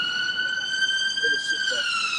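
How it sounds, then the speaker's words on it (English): A siren wails outside, a steady sustained tone with stacked harmonics held throughout, fairly loud and continuous, with faint voices underneath. "The sirens started as soon as you said"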